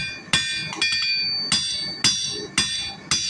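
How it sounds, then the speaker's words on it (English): Sharp metallic hammer blows texturing steel forged grape and oak leaves, about six strikes at a steady, unhurried rhythm, each ringing briefly before the next. Close and loud, with no talking. "You can notice that I rotate the steel under my hammer."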